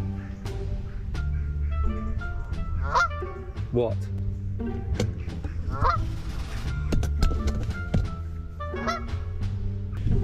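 Geese honk loudly and repeatedly at a carp fishing lake, a noisy flock of overlapping harsh calls in irregular bursts, close by, with a brief spoken word amid the racket.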